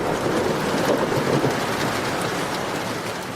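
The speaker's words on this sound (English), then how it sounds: "a heavy rain began to drum on the windows" Heavy rain drums steadily against windows in a dense, loud, unbroken wash, with a low thunderstorm rumble underneath throughout.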